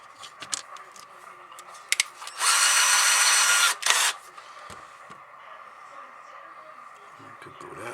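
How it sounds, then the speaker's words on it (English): A power drill bores a hole through a board for running a radio antenna wire, a loud steady whine lasting under two seconds with a short second burst, amid quieter workshop handling sounds. "drill a hole in the board to run the wire down"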